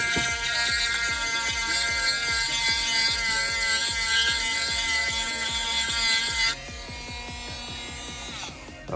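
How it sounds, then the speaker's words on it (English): A Dremel rotary tool grinds down the finger grooves on a Glock pistol's polymer grip, a loud, close, high-pitched continuous whine with rapid rhythmic chatter that drops in pitch and volume near the end. "just from taking this Dremel, the rotary tool, and grinding those things down"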